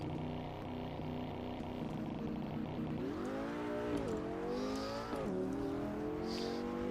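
The five-cylinder car engine in the Assetto Corsa EVO video game holds a steady, droning rev with a rising whine as turbo boost builds, then swells higher in pitch, quite faint throughout.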